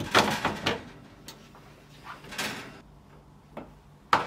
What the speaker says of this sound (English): finally reattach your oven door